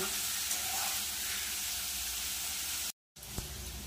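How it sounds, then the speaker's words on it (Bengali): Bitter gourd frying in a pan sizzles steadily and quietly nearby, with stirring underneath, cut off by a short silence and then resuming with one soft knock. "উচ্ছেটা আগে একটু ভেজে নেব।"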